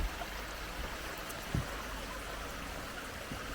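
A small stream in Stonewall Park on the St. Mary's River runs beneath a boardwalk bridge, giving a close, steady rushing trickle with a soft bump or two, and no voices over it.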